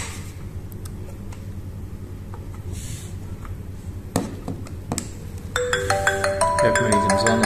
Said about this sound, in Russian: Как мы видим, звонок поступает.